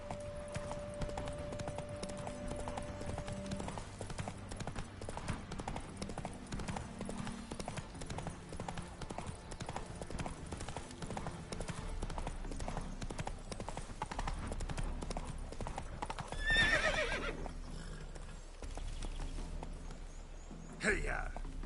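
Horse hooves gallop in The Witcher 3 on PS5, a steady, fast clip-clop that runs throughout, with in-game voices and background sounds layered over it.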